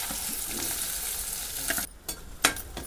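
Onions fry in a pan on a wood-fired stove, a loud steady sizzle with scraping stir strokes that briefly drops away before crackling back with sharp bursts.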